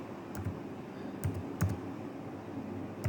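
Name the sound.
typing Authy code on keyboard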